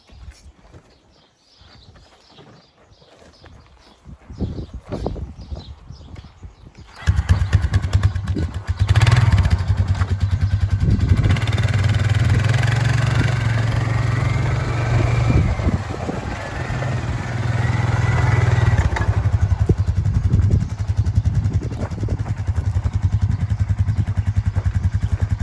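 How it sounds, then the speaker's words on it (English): A quad ATV starts up and drives off to hook up a harrow, its engine a loud, steady rumble that holds from start-up onward after some quieter handling noises at the beginning. "So I'm going to start my quad up. I'm going to drive around there and hook up to the harrow"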